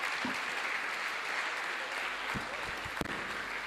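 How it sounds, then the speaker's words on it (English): A lecture audience applauding, a broad even wash of many hands clapping at moderate level, with a few louder thumps and knocks close by near the end. "Another round of applause"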